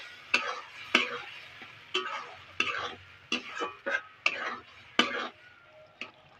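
Taro leaves (kochu shak) are stirred in a pan with a spatula, making a quick run of crisp scraping strokes about every half second. The strokes are close and moderately loud over a quiet, faintly humming background.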